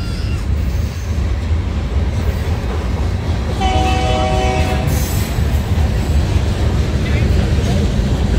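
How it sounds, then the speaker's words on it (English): A freight train rolls through a Louisville, Colorado farmers market, its continuous loud, close rumble and rail noise joined midway by a sustained blaring horn blast lasting over a second, with voices in the background. "It's going to be a loud train, okay?"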